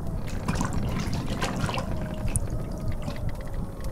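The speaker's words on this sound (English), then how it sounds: "you can be sensible and let me put you in the water" Splashing and sloshing water as a captured mermaid is lowered into water aboard a pirate ship, a steady, close liquid wash with trickles and drips lasting throughout, no talking.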